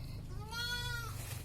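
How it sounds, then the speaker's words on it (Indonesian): A billy goat gives a single drawn-out, quavering bleat at close range while being fed bananas in the morning, with a steady low rumble underneath. "kita mengasih makan kambing dulu sama pisang ini"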